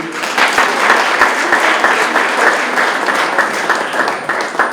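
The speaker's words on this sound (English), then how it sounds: "Please give a round of applause to Dr." Steady, dense audience applause at an awards ceremony, loud and continuous throughout, with sharp individual claps standing out over the broadband wash of the crowd.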